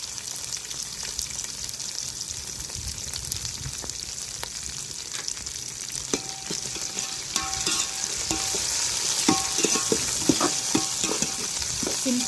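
Tomato rice being stirred as it fries in a pan with coriander and mint, a steady close sizzle with scraping and clinking of the spoon growing busier toward the end, no voices.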